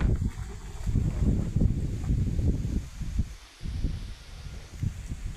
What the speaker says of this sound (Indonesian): Cuacanya angin-angin ini